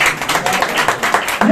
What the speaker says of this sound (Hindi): लेकिन आपकी तालियों का साथ चाहिए